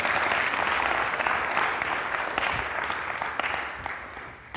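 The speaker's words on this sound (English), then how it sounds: "Can y'all clap it up for Jacob, please?" Conference keynote audience giving a speaker a loud, sustained round of applause, dense clapping that starts strong and slowly tapers off over several seconds, with no speech.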